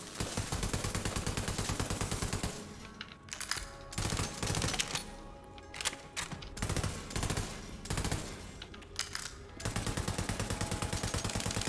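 Rapid automatic fire from the Flakker gun in Borderlands 3, loud and continuous bursts of dense clattering shots broken by short pauses, with no talking.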